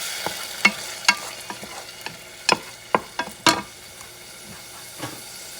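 A spoon stirs fresh grated farmer's-market tomato sauce in a pan, producing irregular sharp scrapes and taps against the metal over a faint background, with no talking.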